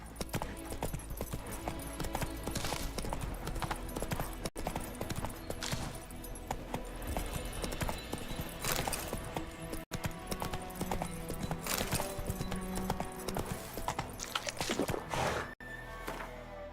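Rhythmic clip-clop of horse hooves galloping in The Witcher 3 open-world game, steady and prominent over continuous game music, with an occasional faint whinny.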